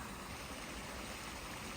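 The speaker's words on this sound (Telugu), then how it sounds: "చూడండి ఇక్కడ ఎప్పుడు నీళ్ళు పోతూనే ఉంటాయి" A constant broadband rush of flowing water fills the clip, steady and even like a nearby stream in Korea, with no voices.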